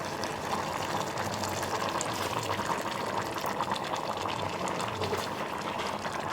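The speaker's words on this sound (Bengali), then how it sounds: "এখন আমি এর মধ্যে দিয়ে দেবো পরিমাণ মতো পানি" Water is poured into a cooking pot holding a mixed chana dal and banana flower dish, giving a steady rushing, bubbling splash that continues at close range for several seconds without any talking.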